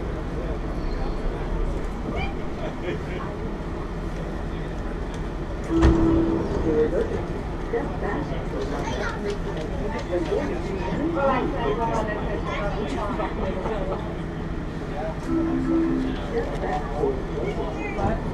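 WMATA Rohr car 1255, a Red Line metro train, pulls out of Woodley Park station in a tunnel with a steady rumbling roll, a clunk and a short tone partway through, under talking nearby.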